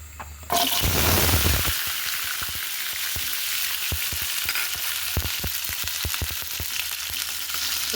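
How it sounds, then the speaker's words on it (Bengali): Garlic cloves frying in a hot pan, opening with a sudden loud sizzle that settles into a steady crackling hiss with scattered pops and light scraping, close up and with no voices. "প্রথমে আমি রসুনগুলো একটু ফ্রাই করে নেব"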